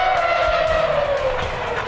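A Formula One car brakes hard at the end of the Monza start-finish straight before the Rettifilo chicane, its loud engine note falling steadily in pitch as it slows.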